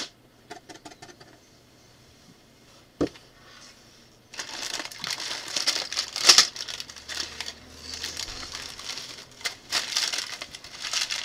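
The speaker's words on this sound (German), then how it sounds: "Hier, die Tüte ist offen." A plastic bag of building-block parts from a BlueBrixx Western scenery set crinkles and rustles as it is torn open, with sparse handling ticks first, then steady loud crackling close by.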